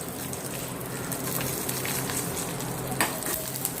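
Asafoetida, curry leaves and chili frying in hot oil, a steady close sizzle with crackling pops, one sharper spatter near the end; no talking.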